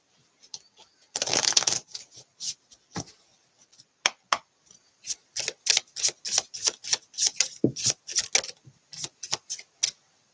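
A deck of tarot cards riffled in a quick burst, then a steady run of crisp taps and snaps as cards are squared and dealt.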